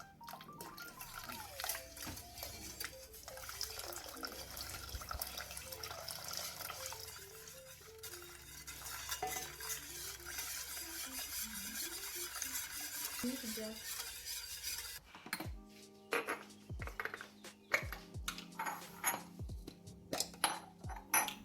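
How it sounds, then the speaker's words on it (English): A spoon stirs cupcake batter for Spanish cupcakes in a bowl while hot milk is slowly poured in, giving soft, continuous scraping and liquid swishing. Sharper knocks and taps follow near the end. "Now slowly add the hot milk while mixing."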